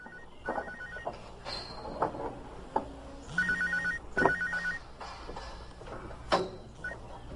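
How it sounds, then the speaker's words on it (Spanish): A mobile phone rings on a construction site scaffold about ten metres up, its electronic ringtone repeating in bursts over clattering work noise and background activity. "cuando sonó su teléfono portátil"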